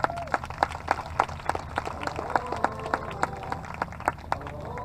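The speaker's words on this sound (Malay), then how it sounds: "Berikan tepukan gemuruh sekali lagi kepada YB kita" Crowd applauding at a nighttime PRU15 Malaysian election campaign rally, a busy spread of claps and cheering with sharp individual hits, continuing steadily under some voices.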